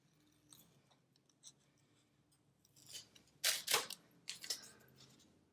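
Scissors snip through paper for a planner in a few sharp, crisp cuts, close and clear, following quieter handling noises in a quiet room.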